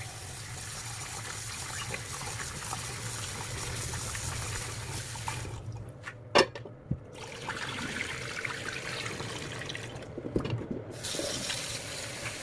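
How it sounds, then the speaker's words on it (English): Dried kelp knots being rinsed under a running kitchen tap, a steady close hiss of flowing water with brief splashy bursts as the knots are handled, no talking. "They smell very fishy, so I need to wash them several more times."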